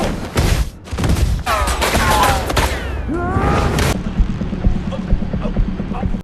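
Gunfire in a dramatized action scene, a dense burst of booming shots and impacts with sweeping tonal whines, loud and close, giving way to a lower rumbling backdrop with scattered thuds.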